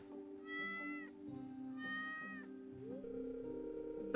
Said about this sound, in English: I heard a meowing!